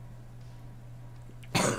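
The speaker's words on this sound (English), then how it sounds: "No cough. No, stop." A cough bursts out near the end after a stretch of quiet room hum, short and close, following nearly two seconds of near silence.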